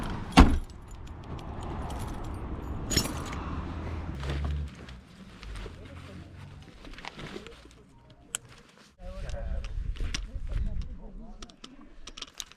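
Car keys jangle loudly in a short burst beside a car at the start of a mountain hike, followed by handling clatter, rustling and scattered knocks, with a voice briefly speaking.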